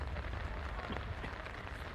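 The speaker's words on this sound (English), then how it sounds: "Rain is coming down hard." Heavy rain pours steadily at an outdoor high school football game, a dense, even hiss of drops on surfaces with no pauses.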